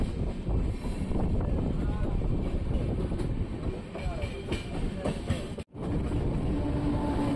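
Wind-buffeted rumble of a train near a crossing, a steady low roar with some rattling and a brief cutout before it resumes.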